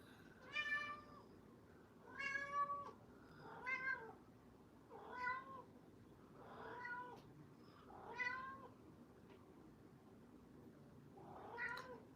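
A house cat meows about seven times, evenly spaced a second or two apart. The meows are quiet and slightly distant in an indoor kitchen.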